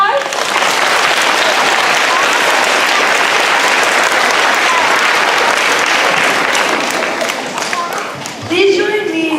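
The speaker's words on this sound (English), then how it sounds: "Give everybody a round of applause." A school Veterans Day program audience breaks into loud, sustained applause that fills the room for several seconds, then tapers as a voice begins speaking at the end.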